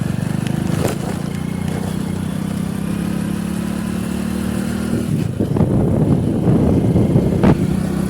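A tractor engine running steadily on the way to a field, a loud close drone that roughens and rises near the end as it pulls harder, with no voices.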